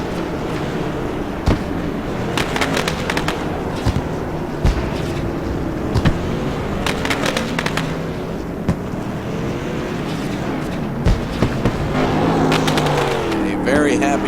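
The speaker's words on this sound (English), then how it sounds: "And the fireworks there off the back stretch." Fireworks at a race celebration at Thompson Speedway, popping off the back stretch: scattered sharp bangs and crackles spread over several seconds against a steady background roar, with an announcer talking throughout.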